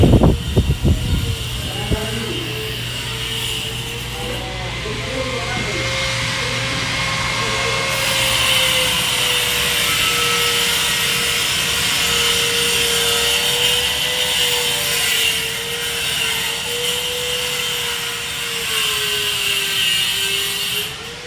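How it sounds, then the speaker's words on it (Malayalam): Workers cut tiles at a building site with a power cutter, a loud, steady whining grind that runs continuously and wavers in pitch, with a few sharp knocks at the start and voices talking underneath. "ടൈൽസൊക്കെ കട്ട് ചെയ്യുന്നു."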